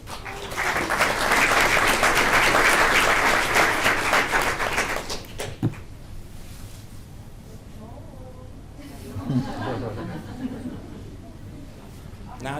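A school board meeting audience bursts into loud, dense applause for about five seconds, then it cuts off into quiet room tone with faint shuffling and murmured voices.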